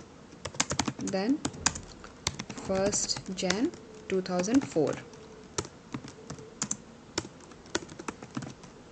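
Keys clatter on a computer keyboard as a date of birth is typed into a spreadsheet, a steady run of close, crisp taps that carries on under someone talking in Hindi.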